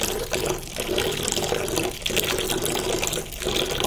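Water poured into a homemade liquid soap mixture of washing powder, detergent, baking soda and salt, a loud continuous gushing fill near the microphone with a few brief dips.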